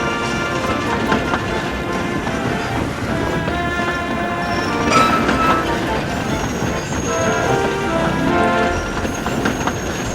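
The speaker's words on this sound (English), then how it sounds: "He clattered around, shoving the trucks roughly." Arry, the ironworks diesel, clatters and rumbles as he roughly shoves trucks of scrap, with a continuous loud rolling clank, rattling wagons and a horn-like tone.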